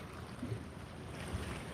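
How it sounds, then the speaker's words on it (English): Steady wind buffets the microphone beside a rocky ocean pool ringed by cliffs, a low, constant rumble with faint surf underneath and no talking. "It's a bit windy, that's why I'm hiding down these rocks today."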